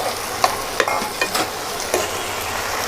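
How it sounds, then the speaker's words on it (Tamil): Onions and tomatoes sautéing over a high flame, a steady sizzle with a few sharp scrapes and knocks of a spoon stirring the pan, close and with no talking. "நல்லா ஹை ஃப்ளேமில் வச்சு வதக்கிக்கோங்க"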